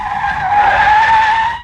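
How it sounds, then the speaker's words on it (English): A car skids hard as it veers onto a sidewalk, its tires giving one loud, sustained squeal that holds steady for over a second and then cuts off abruptly. "A car veers onto the sidewalk, heading straight for Saul"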